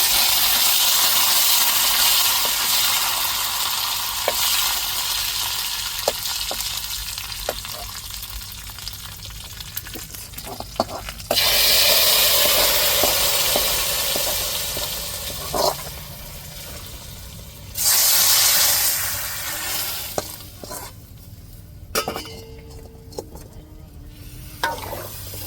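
Onion, curry leaves, fenugreek and mustard fry in a pan with a loud continuous sizzle, punctuated by stirring clatters and two sudden louder bursts as fresh ingredients drop into the hot oil.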